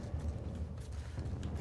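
Weapon reloading in the video game The Last of Us Part 2, a short run of low mechanical clicks and creaks from the gun's action, steady and fairly close, with no talk over it.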